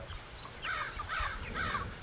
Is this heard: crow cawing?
yes